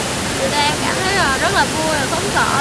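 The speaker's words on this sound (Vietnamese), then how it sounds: "nghe âm thanh réo rắt của dòng thác đổ vọng lại từ một nơi nào đó rất xa." The Giang Dien waterfall roars as a steady, loud rush of pouring water that covers the whole stretch while a person talks over it.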